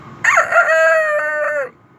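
A voice imitates a rooster crowing: one loud, sustained cock-a-doodle-doo lasting over a second, close and clear, heard alone without any talk.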